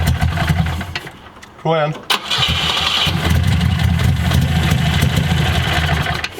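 A Volvo car engine cranks, stumbles and catches, then settles into a steady rumbling idle, loud and close, with a brief spoken line just before it fires.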